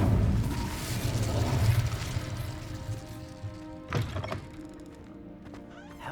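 A fiery Incendio spell goes off in the Hogwarts Legacy video game: a loud burst at the start fades away, then a second sharp impact lands a few seconds later over steady game ambience.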